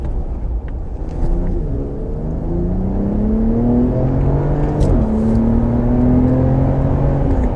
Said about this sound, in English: Makes some nice kind of burbly noises and fart noises when you really step on it.